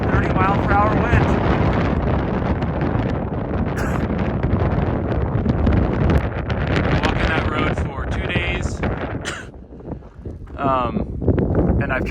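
Strong 30-mile-per-hour wind buffeting a microphone while walking outdoors on a trail, a loud continuous roaring rumble that gusts and dips, with a person talking over it.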